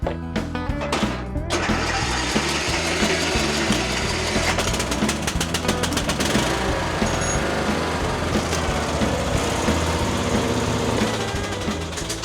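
A Troy-Bilt lawn mower with a swapped-in engine runs steadily at full throttle, a loud close mechanical drone after a brief rough start, with no talking.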